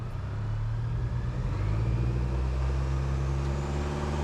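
A low, steady engine rumble comes from an off-road vehicle on Eibach suspension and KO3 tires, crawling slowly in low first gear. The drone is continuous and moderate, with no talk.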